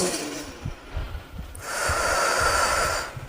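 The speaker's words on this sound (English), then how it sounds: "Take a deep breath." A deep breath taken in through the nose with a snorting rush, then a long, steady exhale lasting over a second, close and alone.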